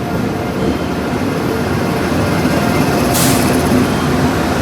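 Train 12555, the Gorakhdham Superfast Express hauled by a WAP-7 locomotive, arrives at New Delhi station as a steady, loud rumble of rolling coaches, with a brief hiss partway through.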